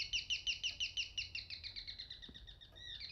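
Bird chirping in the horror video game Devotion, a fast series of bright repeated chirps, steady and clear for most of the clip, trailing off near the end.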